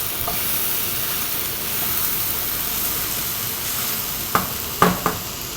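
Stingray fish frying in a pan with onion, garlic and ginger gives a steady, close sizzle throughout, with a few sharp clinks of a utensil near the end.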